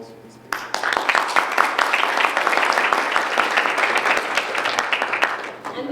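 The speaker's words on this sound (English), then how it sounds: "be grateful if you give a round of applause for these people" Audience applause at the close of an agricultural semantics panel, starting sharply and continuing as steady, fairly close clapping from a modest crowd.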